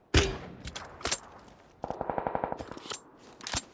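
A Beryl M762 fires a rapid automatic burst in the video game PUBG, with a dozen or so quick evenly spaced shots, plus a few sharper single shots and thumps around it.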